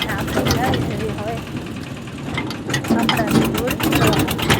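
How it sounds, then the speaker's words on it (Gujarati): A tractor engine runs steadily while riding along on it, a continuous low drone with a few bumps and rattles, heard close. "તો આપણે બેસી ગયા છીએ ટ્રેક્ટરમાં, હવે આપણે જઈએ છીએ"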